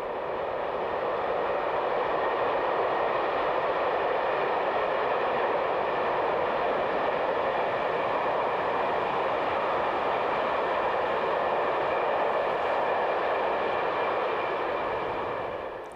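An Austrian ÖBB Class 1014 electric locomotive train running steadily, a continuous even rumble and hum of wheels and traction heard from on board, with no talking.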